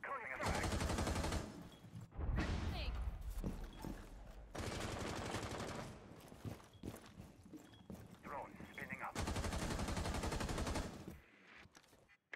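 Gunfire in Rainbow Six Siege comes in loud bursts of rapid automatic fire, with several separate volleys broken by short pauses, while a voice talks quietly underneath.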